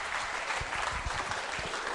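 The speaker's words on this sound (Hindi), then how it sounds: "तालियां जोरों से बजाइए इनके लिए" Audience at a school quiz show applauding, a dense continuous patter of many hands clapping at a steady level for about two seconds, fairly close and with no voices on top.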